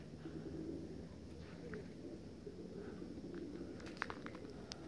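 A pair of grey turtle doves gives faint, low cooing against steady outdoor noise, with light scuffing steps and a few sharper clicks near the end.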